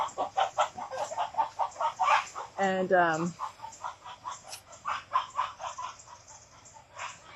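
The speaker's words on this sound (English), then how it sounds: "oh, poor chicken." A chicken clucks and squawks in short bursts, one sharper call standing out, while a person talks over it throughout.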